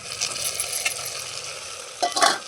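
Taro pieces fried in a pan with ginger-garlic paste and turmeric are stirred, giving a steady close sizzle with scraping strokes and a louder stir near the end.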